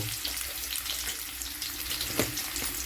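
Raw mango pieces fry in hot oil with mustard seeds, giving a loud, continuous close sizzle with a brief sharper crackle near the end.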